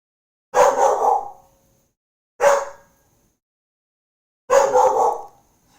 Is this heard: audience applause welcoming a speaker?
no